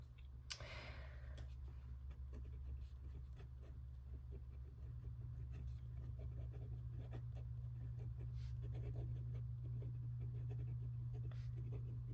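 Pen scratching across very textured paper, a run of faint, close, irregular scritches over a steady low hum, with no talk.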